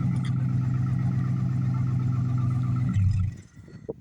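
A 2014 Ram 1500 Outdoorsman with a 5.7 Hemi and straight-piped 5-inch exhaust runs with a deep, steady rumble, then gives a short rev before cutting off.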